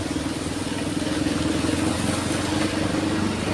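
Motorcycle riding over a damaged, potholed asphalt road, its mid-pitched engine droning steadily and close throughout with slight surges, no talk.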